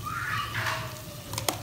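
Okra and masala sizzle and are stirred in a pan, with a gentle, continuous frying hiss. A brief clink of a utensil against the pan comes near the end.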